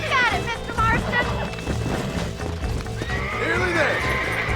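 Horses in the Red Dead Redemption video game neigh and whinny several times over steady clip-clopping hooves, loud and close, with game dialogue running alongside.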